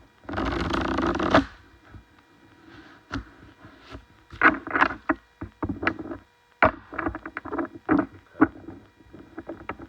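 Tarot cards shuffled by hand: a dense riffling burst at the start, then a run of short, sharp snaps and flicks at an uneven pace, close and fairly quiet, with no talking.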